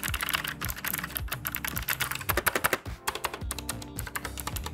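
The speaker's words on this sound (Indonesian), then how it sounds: "kalau dipakai buat ngetik sih ya menurut gua keyboard ini ya nyaman-nyaman aja" Rapid, steady clatter of keys being typed on a Rexus Legionare MX8 gaming keyboard with optical switches, close and continuous with no talking.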